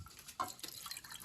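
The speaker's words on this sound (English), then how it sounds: "We're gonna pour the water in." Water is poured into a bowl for paper mache paste, giving brief, faint splashing and dripping sounds over about a second.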